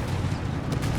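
Marder tank destroyer fire in Company of Heroes 3, a dense, rumbling low boom of heavy gunfire and battle noise filling a brief second without pause.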